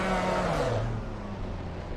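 A BMW GT4 race car in a PC racing game at Zandvoort roars loud and close, its engine note sliding downward in pitch as it slows. No voices are heard over the engine.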